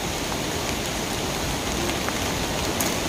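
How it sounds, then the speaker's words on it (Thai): Steady rain falls without a break outdoors during a mushroom-foraging trip in France, making a dense, even hiss with a few scattered sharper drops. "ฝนตกแล้ว"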